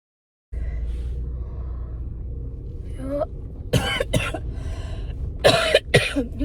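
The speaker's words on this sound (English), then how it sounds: "I still have like a lingering cough" A person with a lingering cough coughs harshly several times in short bursts over a low rumbling background, close and loud, with a throat-clearing sound among them.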